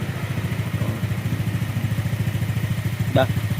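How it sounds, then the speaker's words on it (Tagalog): A Honda Click 150i scooter engine, bored up to 62mm, idles at standard RPM with a steady, rapid low-pitched pulsing throb that stays even throughout, with a brief clink near the end. "Bore up 62, Honda Click 150i standard RPM."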